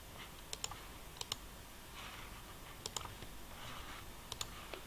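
Computer mouse clicks sound in quick pairs of sharp, faint clicks, spaced by short pauses over a quiet room background while using photo software.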